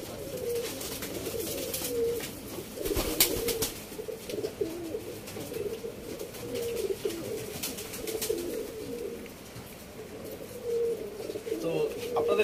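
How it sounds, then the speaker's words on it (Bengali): Domestic pigeons feeding on a floor coo in a steady low murmur that carries on for the whole stretch, with a few soft chirps and faint ambient noise around them. "দেখুন সব পায়রা মেঝেতে খেতে দিয়ে গেছে সুন্দর পায়রা খাচ্ছে"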